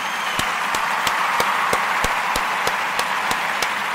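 Audience applauding the Kuumba babies at a gathering: a steady wash of crowd noise with sharp claps falling in an even rhythmic beat, as if clapping in unison.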